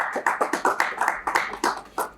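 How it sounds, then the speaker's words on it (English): A small audience applauds at a B Winners Gambia brand ambassador event, giving scattered, fairly close hand claps in an uneven rhythm for a couple of seconds with no talking. "Can we clap for Ayman, please?"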